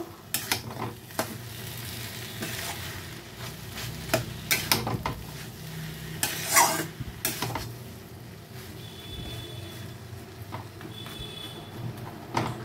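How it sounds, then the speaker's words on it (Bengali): Potato and lentil fritters with slit green chillies are stirred together in a pan for a Bengali kochur ghonto, with scraping and soft sizzling, irregular clatters of the spoon, and no voices over it. "এখন আমি এগুলাকে খুব ভালো করে উপকরণগুলোকে সব মিশিয়ে দেব।"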